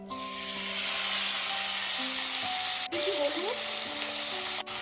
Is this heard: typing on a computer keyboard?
no